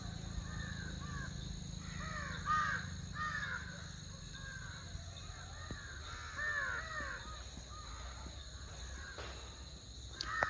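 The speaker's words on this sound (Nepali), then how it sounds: "ऊ काग काग काग काग" Crows caw in short clustered bursts at moderate distance during an evening walk, repeated through the stretch over a soft background of chirping insects.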